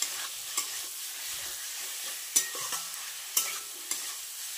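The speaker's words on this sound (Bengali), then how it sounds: "এখন কষিয়ে নিচ্ছি ভালো করে" Onion-tomato masala being sautéed in a pan, a steady low sizzle with occasional sharp scrapes and clinks of a spoon against the pan, close and fairly quiet with no talking.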